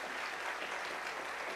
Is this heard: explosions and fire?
no